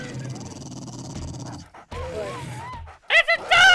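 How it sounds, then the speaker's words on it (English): A dog in the zombie survival game 7 Days To Die pants and growls at close range, rough snarling bursts that end in sharp yelps, with a voice speaking over part of it. "It's a dog!"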